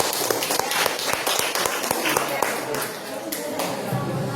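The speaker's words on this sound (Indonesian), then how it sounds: "Oke, tepuk tangan." Students in a junior high school classroom clap together after a group presentation, a dense run of close, sharp hand claps that carries on steadily while voices talk over it.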